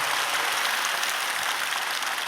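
A large congregation at a summer revival meeting claps together in a dense, continuous roar of applause, full and uniform without breaks, with no single claps standing out.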